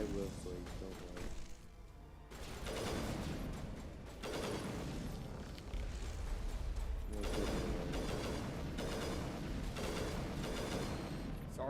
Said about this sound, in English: so I can actually hear you over the sound of gunfire